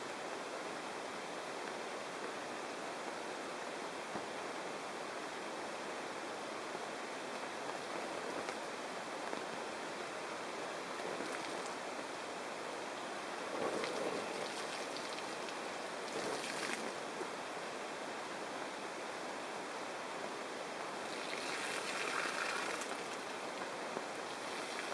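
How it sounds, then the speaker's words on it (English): Heavy rain pours steadily onto a camping tarp in Crown Land woods, a dense, even hiss throughout with a few louder splashing bursts, no talking. "It's been pouring for a while and there's tons of water accumulating here"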